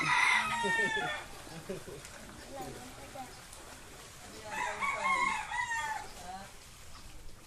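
Chickens cluck and squawk nearby in two bursts, with quieter rustling and faint background noise in between.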